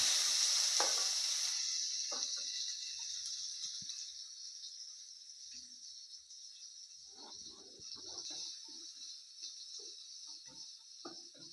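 Fenugreek seeds, curry leaves and shallots crackle and sizzle in hot oil, a steady high hiss with scattered pops and spits, loudest at the start then settling to a softer fizz.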